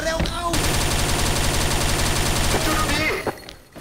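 Dense, continuous automatic gunfire from the video game XSHOT in Ghost Mode, a loud near burst that runs for about three seconds before tapering off.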